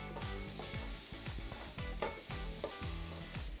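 Onions hitting hot cooking oil and butter in a pan give a steady, close frying sizzle that runs the whole time, with tonal music-like notes layered underneath.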